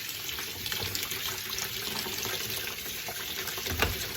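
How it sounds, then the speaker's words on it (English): Beans being rinsed under a running kitchen tap in the sink, a steady close splashing water flow for several seconds with a slight surge near the end, no voices. "I'm going to rinse them off and get them going"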